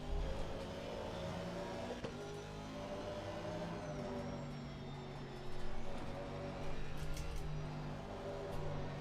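Race car engine noise from Assetto Corsa Competizione at the Kyalami circuit, a steady loud drone with harmonic whine and gear changes as the car brakes into a corner, with no talk.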